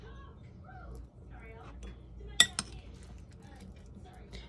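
Utensils clink against a bowl as carrot salad is dished up, with a couple of sharp metallic taps partway through, heard under a person talking.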